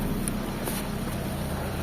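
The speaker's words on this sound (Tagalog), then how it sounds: "pantay na yung makina niya. Kalmado. Okay na yung makina" Short, quiet stretch of a Mitsubishi Lancer's 4G15 engine at idle, a low, even rumble with a breathy, wind-like texture and no surges.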